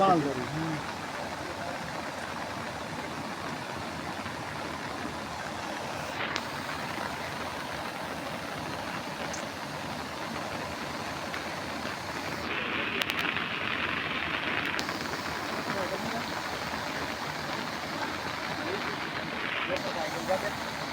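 Heavy downpour at Chapaner, a steady broadband wash of rain lasting throughout with a brief louder hiss partway through, while people talk over it.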